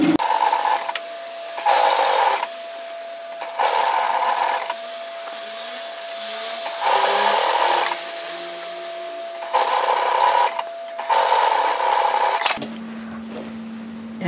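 A domestic sewing machine stitches a sleeve seam at 6mm on a shacket garment, running in loud bursts of about a second each, separated by short pauses, close up.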